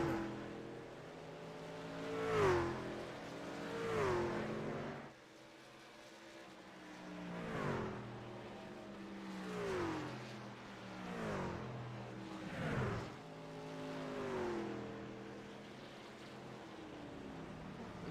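Race trucks in a truck series race roar past on track, their engines rising and falling as several vehicles sweep by one after another in repeated loud passes, with no talk.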